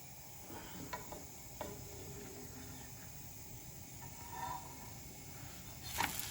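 Faint steady sizzle of a pancake frying in a pan, with a few soft taps and scrapes, one at the end as it is flipped.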